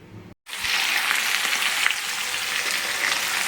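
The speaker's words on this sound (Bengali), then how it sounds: "দেখো তেলের মধ্যে চিকেনটাকে দিয়ে দিয়েছি" Chicken pieces drop into hot oil with a brief pause, then a loud, dense, continuous sizzle and crackle of frying holds steady, close up, with no voices.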